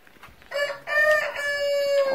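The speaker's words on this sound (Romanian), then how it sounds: "Auzi cocoșul?" A rooster crows loudly and close by in a garden at a grandmother's home, one long sustained cock-a-doodle-doo with a rising start and drawn-out ending, heard alone without talk.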